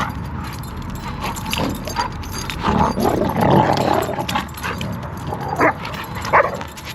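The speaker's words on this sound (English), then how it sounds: "This was my second growl" A giant schnauzer growls in low, rumbling bursts that swell and fade over several seconds, with a few sharper yelping accents near the end and faint background noise.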